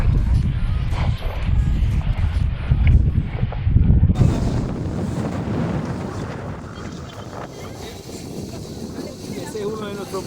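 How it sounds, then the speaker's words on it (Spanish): A sail flapping hard in strong wind aboard a sailboat, a loud rough rumbling flutter mixed with heavy wind buffeting the microphone and water noise, steady throughout. "Ese es uno de nuestros barcos y tiene la vela flameando, se les va a dañar."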